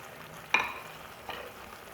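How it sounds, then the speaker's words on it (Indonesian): Meat filling for pastel stirred in a pan with spring onion and celery, giving two soft scrapes about a second apart over a low, steady sizzle. "Kita aduk lagi."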